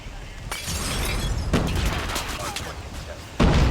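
Sharp bursts of gunfire from the mobile shooter game Call of Duty Mobile crack out in a few separate volleys over steady game background noise, and a voice talks in between.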